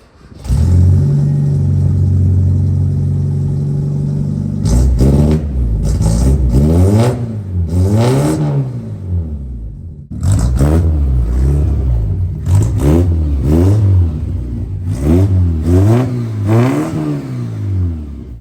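A 1981 Dodge Challenger engine rumbles at a steady idle through its exhaust, then revs hard in a run of rising and falling bursts, loud and close, with no talking.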